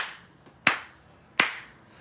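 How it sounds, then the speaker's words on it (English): Two crisp hand claps about three quarters of a second apart, close and distinct over a quiet room, like the start of a clapping game. "Remember that hand clap thing?"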